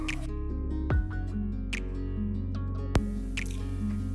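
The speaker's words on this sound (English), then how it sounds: "We'll allow it to boil for a while and then mix it up" Sweet pongal mixture boils in a pot, soft bubbling with a few distinct pops and plops over a low steady hum, close and fairly quiet.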